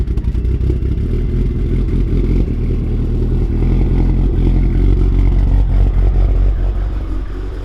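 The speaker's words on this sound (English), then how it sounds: "Can you get a cold start for the boys?" A Subaru STI engine on a cold start, running loud and close with a steady deep rumble and mechanical clatter and no break for the whole stretch.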